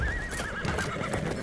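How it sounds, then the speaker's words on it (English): A horse neighs in the war shooter Battlefield 1, a whinny that rises and falls over clip-clopping hooves and game noise, fairly close and steady throughout. "That's a horse."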